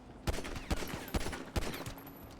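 Gunfire in GTA V NoPixel roleplay, a rapid burst of about five or six sharp shots with distant echoing pops, moderately faint with no talk.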